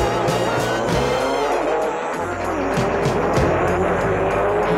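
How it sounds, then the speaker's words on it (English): A Shelby Cobra race car roars at full throttle on track with other racing cars, loud and close, the engine note rising and falling through gear changes with some tire noise. "The Cobra, driven by Phil Hill, completed the first lap leading the field."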